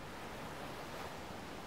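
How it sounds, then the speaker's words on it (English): Ocean waves washing onto a shore in a summer seaside setting, a steady broad wash of surf heard alone without a clear break between waves. "Oh, I love the sound of the waves."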